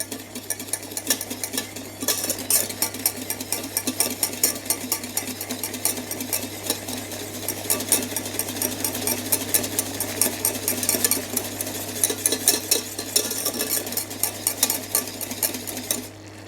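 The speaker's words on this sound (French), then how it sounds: "Je remue quand même sans arrêt pour éviter que ça n'accroche au fond de la casserole" Boiling peach confit stirred nonstop in a saucepan, a continuous rhythmic scraping and tapping of the spoon against the pan over a bubbling simmer and a low steady hum, close and unbroken, no talking.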